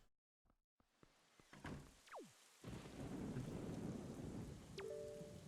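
Rain and thunder in The Legend of Zelda: Wind Waker HD at night. Scattered clicks and a falling tone give way to a steady wash of rainfall with low thunder underneath, plus a brief chime near the end.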